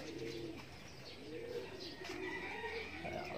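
Racing pigeon cooing softly in a loft, low rolling coos repeating over faint background chatter and ambient noise.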